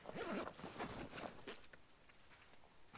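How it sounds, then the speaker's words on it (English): A double swag's zip is pulled closed in a few quick rasping strokes, close and fairly faint, followed by soft handling rustles with no talk. "do your zip."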